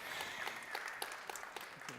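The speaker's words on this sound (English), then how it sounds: "You can give them a round of applause." Audience applause at a tech inclusion conference main stage, steady crowd clapping heard somewhat distant and fairly quiet, with a few sharper individual claps standing out.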